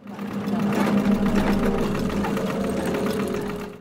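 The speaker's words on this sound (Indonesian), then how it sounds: "Bahkan ia menyuruh Christine untuk menggunakan mesin jahit jadul kebanggaannya." An old, prized sewing machine runs steadily throughout, a continuous mechanical whir with a low motor hum and fast rhythmic stitching clatter, close and fairly loud.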